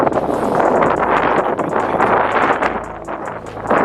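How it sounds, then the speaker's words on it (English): Wind buffets the microphone in a steady, loud rumble with gusty swells throughout, no other clear sounds on top. "It's windy today."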